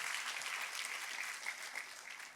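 A church congregation claps during a worship service, giving a dense, sustained round of applause that stays even throughout the short moment.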